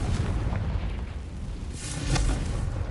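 A Confringo spell explosion in the Hogwarts Legacy video game, a heavy rumbling blast that swells and rolls on, with a second burst near the end.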